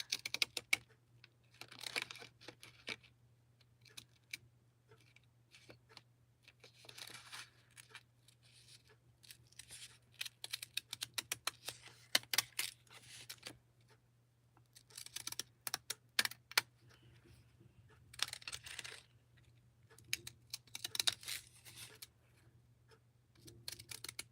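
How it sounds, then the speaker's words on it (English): Small postage scissors snip around paper stamps in quick irregular clusters of crisp clicks, close and quiet, over a faint steady hum. "So I'll pull out my postage scissors"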